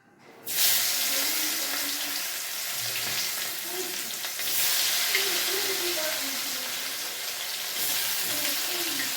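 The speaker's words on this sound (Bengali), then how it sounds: "এই দেখো তেলটা গরম হয়ে গেছে, মাছটা পুরো ভাজা হয়ে গেছে" Loud, continuous sizzling and crackling of fish frying in hot oil, broken by a brief scrape or stir partway through, with faint background sounds underneath.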